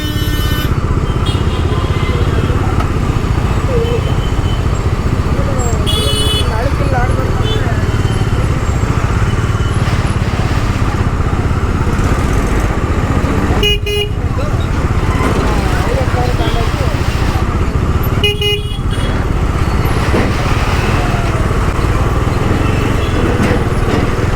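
Continuous loud road traffic with motorbike engines droning and passing vehicles close by, a constant rumble throughout with occasional brief breaks.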